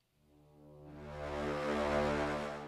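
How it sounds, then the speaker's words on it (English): Low brass sample from the Jaeger orchestral library: a single sustained, dark, rich chord that swells slowly from near silence to a full, loud peak and holds, with no other sounds. "let's have a listen only to the low brass."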